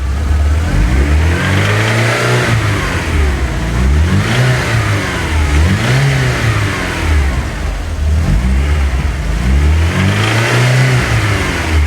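A VW Golf GTI engine pulls away in a series of loud, close revs. Its pitch rises and falls repeatedly, and a possible bearing-like rattle may sit underneath.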